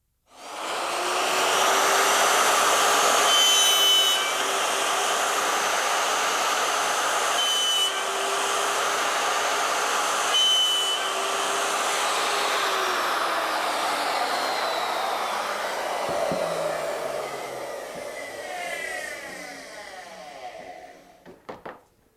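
Handheld wood router cutting a dovetail tail piece in a workshop, a loud steady high whine with rough cutting noise held for about sixteen seconds, then spinning down, with clattering handling near the end.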